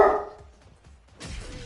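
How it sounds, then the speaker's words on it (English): A pet dog named Dottie barks indoors, one bark at the start followed by a couple of fainter yips, then a second louder burst, a short back-and-forth of barking at moderate distance. "Okay, seriously, dogs?"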